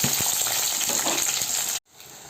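Small onions, large onions and garlic sizzle in hot oil with fenugreek and cumin for a Tamil kuzhambu, a loud close crackling hiss that cuts off abruptly near the end.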